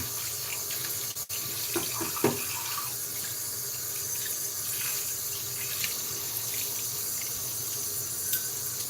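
An injector razor is rinsed under a running sink tap, a steady close rush of water with a couple of brief knocks against the basin early on.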